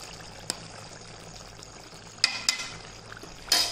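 Vangi bath powder is stirred into a cooking pan, with a few soft, sharp scrapes of a spoon against the pan over a faint steady background, the strokes clustering toward the end.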